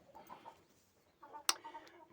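Hens give soft, faint clucks in a quiet setting, a few scattered calls with a brief sharp noise between them.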